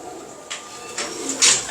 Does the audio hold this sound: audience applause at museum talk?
no